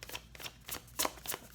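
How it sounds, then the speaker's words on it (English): Tarot cards being shuffled, with quick, soft riffling bursts close by and short pauses between them, and no talk. "Just one more shuffle on camera though."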